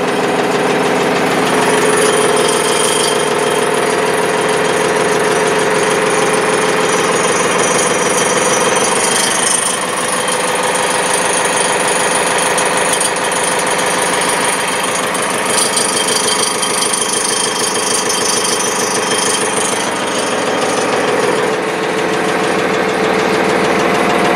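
A 2004 Farmtrac 435 tractor engine runs steadily and loudly throughout, a continuous rumbling, knocking idle with no talking.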